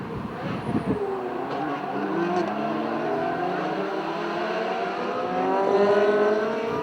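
Ferrari 360 Modena race cars of the Ferrari Challenge Trofeo Pirelli series at a 2004 Ferrari Maserati festival, engines rising and falling in pitch as several cars pass at speed, a steady loud track roar throughout.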